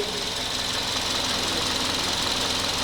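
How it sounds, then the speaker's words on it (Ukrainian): The warmed-up engine of a Suzuki Grand Vitara idles after a compression repair, a steady close hum with a fine rhythmic knock running evenly through the whole stretch. "Все, двигун прогрівся, робоча температура. Вже відкрився термостатик. Чи не відкрився? А, відкрився. Така робота двигуна."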